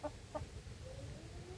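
Farm chickens cluck in a few short, sharp bursts near the start, followed by softer calls and a drawn-out trailing note over a low background hum.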